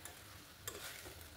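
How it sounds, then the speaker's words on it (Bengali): Ground spices sautéing in a pan over a low-medium flame while cooking potatoes, badi and drumsticks, a quiet steady sizzle with an occasional soft stir or tick, close and without speech. "এবার খুব ভালো করে কষিয়ে নিচ্ছি লো টু মিডিয়াম ফ্লেমে 3-4 মিনিট মতো কষিয়ে নেব"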